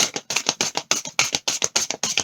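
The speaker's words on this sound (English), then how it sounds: "I'm going to have to shuffle them like this" A new tarot card deck being shuffled by hand in quick, rhythmic riffling bursts, about nine crisp flaps in a steady pattern, close and with no talking.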